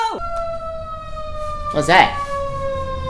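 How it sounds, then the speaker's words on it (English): An emergency vehicle siren wails steadily with long held tones, partly drowned by a loud burst of other noise near the middle, while a person briefly speaks. "Must be an ambulance going off."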